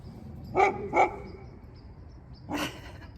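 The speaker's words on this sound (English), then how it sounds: "There's a dog." A dog barks outdoors at sunset: two quick barks close together, then a pause and a third bark, moderately near, with no talk.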